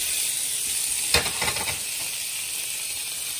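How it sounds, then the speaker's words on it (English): Bacon hits a hot cast iron skillet with a sharp burst of sizzle that settles into a steady hiss, close and loud with no talking. "so now we're gonna add our bacon first"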